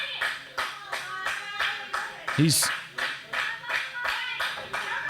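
Wrestling crowd at a live wrestling event clapping in a steady rhythm to rally a dazed wrestler, regular loud claps continuing under a commentator's voice.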